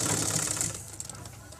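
A sewing machine stitches fabric for a langot with a rapid mechanical rattle that is loud at first and fades after under a second. A voice is heard talking.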